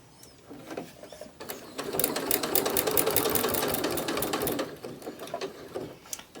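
A sewing machine stitches corner to corner across a keychain fob made from fabric scraps, a rapid mechanical whir that ramps up, runs steadily for a few seconds, then slows to a stop, close and alone.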